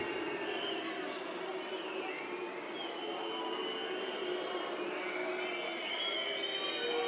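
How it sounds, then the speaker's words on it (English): A packed arena crowd at the European Darts Open semi-final, a sustained dense roar of cheering and chanting from the audience that holds steady throughout, with no single voice standing out. "You can hear who the crowd want to win."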